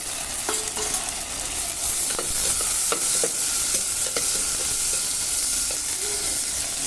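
Chopped tomatoes sizzle and crackle in a clay pot over a wood fire while being cooked for an okra tamarind curry, with a close, continuous fry broken by repeated scrapes and knocks of a spoon as they are stirred.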